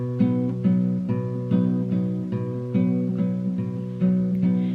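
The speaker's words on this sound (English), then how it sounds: "So it's kind of like a waltz." Acoustic guitar fingerpicking pattern from a song in a lilting three-beat waltz feel, steady repeating plucked notes ringing close and clear with no voices.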